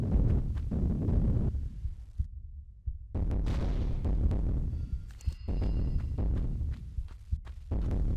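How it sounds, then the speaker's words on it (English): Deep, rumbling booms and low explosions roll continuously, loud and dense, with brief drops and sharp bursts scattered throughout, like battle effects in the video game Tomb Raider during a final arena showdown. "explosions, big boom noises."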